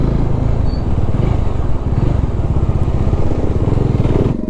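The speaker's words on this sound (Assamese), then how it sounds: "আৰু এতিয়া ডমিনাৰ 250 বাই" A Bajaj Dominar 250 motorcycle drones loudly while riding, its engine thrumming steadily and close for the whole stretch.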